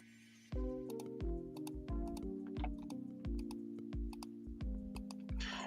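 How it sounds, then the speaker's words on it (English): A very clicky computer keyboard is typed on at a steady pace, each keystroke a sharp, close click in an irregular run of taps over a faint tonal background hum. "Your new computer is very clicky."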